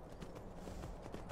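Horse hooves clip-clop in the video game Skyrim VR, a quick run of soft, evenly spaced hoof knocks, faint and steady with no talk.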